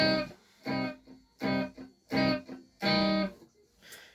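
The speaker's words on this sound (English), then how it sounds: "when you have to change to the distortion effect" Heavy electric guitar riff with distortion: five loud, buzzing chord blasts separated by short silences, played alone.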